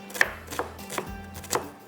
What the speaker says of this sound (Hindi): बस इसको बारीक थोड़ा सा चॉप कर लेते हैं